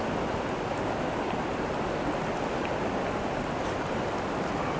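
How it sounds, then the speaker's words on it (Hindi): Heavy rain pours steadily, a dense, even roar of broadband noise that holds without a break from start to finish. "बहुत तेज बारिश हो रही है।"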